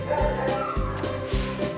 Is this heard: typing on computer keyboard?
no